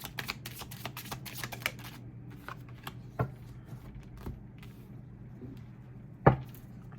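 Tarot cards being shuffled by hand in a quiet room, a burst of quick riffling clicks followed by a few isolated taps and soft card knocks, close and faint.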